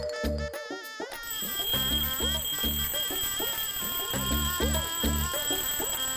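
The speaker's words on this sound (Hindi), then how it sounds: "अलार्म किसने लगाया है?" An alarm clock rings loudly and continuously in a home, with a rapid repeating electronic beep pattern that keeps going over several seconds.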